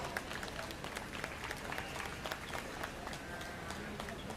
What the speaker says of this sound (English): Let's give all the exhibitors another round of applause